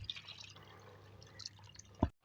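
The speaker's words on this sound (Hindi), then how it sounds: "अब इसमें हम पानी डालेंगे, उसको उबालेंगे।" Water poured into a cooking pot of beef for biryani, a short splashy trickle and drip running throughout and ending in a sharp clunk near the end, fairly quiet.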